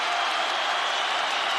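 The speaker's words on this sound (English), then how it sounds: "Crowd goes bananas as McGregor gets upright" Arena crowd at a Khabib Nurmagomedov vs Conor McGregor fight roaring steadily as McGregor gets back up, a dense, loud, continuous wash of cheering and applause with no break.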